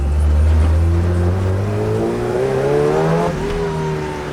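A Lotus car engine in a racing video game revs up under turbo boost, its loud, steady drone climbing smoothly in pitch for several seconds before easing briefly and pulling on again.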